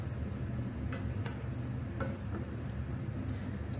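Vegetables cooking in about 250 ml of boiling water in a pan for a spicy stir-fry, a steady bubbling hiss with a few light utensil taps, no talking.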